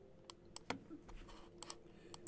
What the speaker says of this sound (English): hit enter on the keyboard